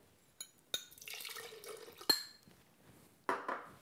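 Tamarind water poured into a pan for Goan fish curry spice blend: a few sharp clinks and short liquid splashes, quiet and close, separated by near-silent gaps.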